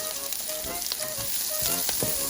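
Half an onion frying in a hot pan for stir-fried white squash, a steady dense sizzle with light stirring scrapes throughout.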